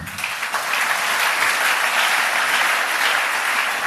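Church congregation applauding together, a dense, loud, sustained wash of clapping that starts almost at once and holds evenly to the end.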